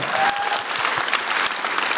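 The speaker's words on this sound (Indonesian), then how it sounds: "Tepuk tangan lu buat Ridwan Remen." A studio audience claps for a stand-up comedian on a comedy competition show, a short, dense burst of applause that fills the room, close and steady.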